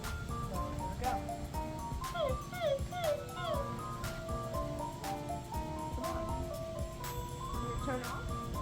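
An Intellipup robot puppy toy gives a series of electronic yips and whimpering dog sounds near a pool, moderately loud against steady background noise.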